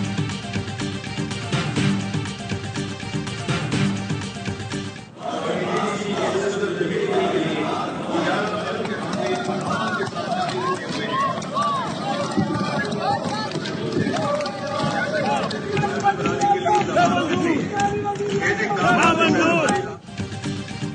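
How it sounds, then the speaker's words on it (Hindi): Opposition uproar during a National Assembly budget session: a dense crowd of voices shouting and chanting at once, continuous loud hubbub that pauses briefly and resumes, with no single speaker standing out. "अपोजिशन का एहतजाज और शोर शराबा"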